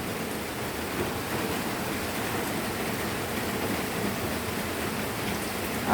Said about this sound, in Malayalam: ഇവിടെ ഭയങ്കര മഴയാണ് കേട്ടോ ഭയങ്കര മഴ